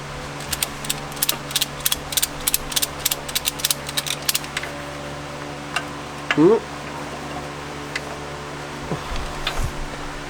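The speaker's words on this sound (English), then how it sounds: "And then just ratchet it up, you know?" A ratchet clicks in fast runs of sharp ticks while tightening during stage 2 clutch work on a Subaru BRZ, close up and fairly loud, followed by quieter scattered clicks and a brief voice.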